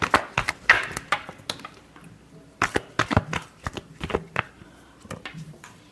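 Tarot cards are shuffled by hand at close range: quick bursts of crisp riffling and sharp card taps in uneven clusters, separated by a short pause.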